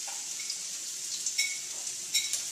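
Minced garlic and chopped green onions fry in oil over medium-high heat, giving a faint, steady sizzle with a few brief crackling spurts and no talk.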